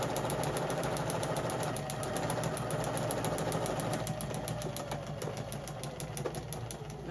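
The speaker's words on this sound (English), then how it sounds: "Now for kids, I always like to do a double stitch because they're more active." A sewing machine running steadily while stitching a double-stitch seam on children's clothing, a fast even mechanical whir with rapid needle ticks, close and continuous without talk.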